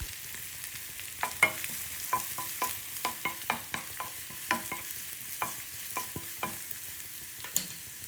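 Chopped onion and curry leaves sautéing in a pan for a bone-in chicken dish, with a soft continuous sizzle and a brisk run of sharp spatula taps and scrapes, close and unaccompanied by speech.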